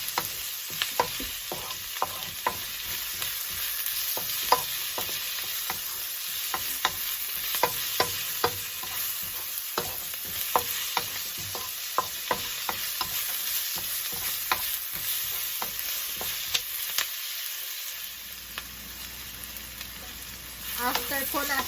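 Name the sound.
onion and garlic sautéing in a pan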